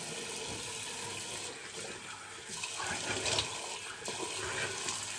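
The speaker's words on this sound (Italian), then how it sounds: "andiamo a sciacquarci il viso." Running tap water splashes and gurgles steadily at a sink as a face is rinsed before a shave, close and continuous with shifting splashes.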